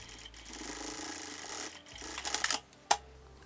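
A sewing machine stitches a zipper onto a fabric tote bag in a short, close run of mechanical whirring. It ends with a few quick clicks and a sharp tap.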